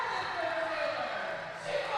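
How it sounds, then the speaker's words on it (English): A crowd at a USAPL Georgia State powerlifting championship cheers loudly after a bench press attempt, a continuous roar of many voices with whistles rising over it. "Crowd is going bonkers over that attempt."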